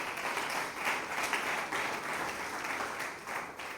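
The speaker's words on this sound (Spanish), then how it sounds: "Dame una ofrenda de palmas al Señor con todo el corazón" A church congregation breaks into sustained applause during a sermon, a dense, steady wash of many hands clapping at moderate volume with no speech over it.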